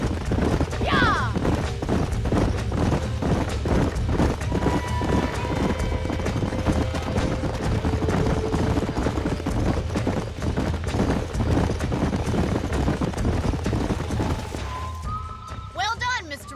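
Horses galloping in Red Dead Redemption, a steady rapid clip-clop of hooves pounding for the whole stretch, close and loud over rumbling ambience, with brief voices and whistles near the end.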